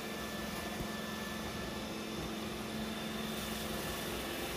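Robot vacuum, a Roomba S9 or i7, running steadily on a bathroom rug, with a continuous broadband whir and hum holding even loudness throughout and no voices.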